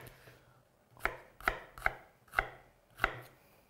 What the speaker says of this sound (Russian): Луковицу крошу довольно мелко.